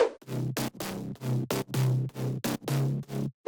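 A gritty, distorted mid-bass synth pulses in choppy rhythmic stabs, each note ducking and swelling, played alone.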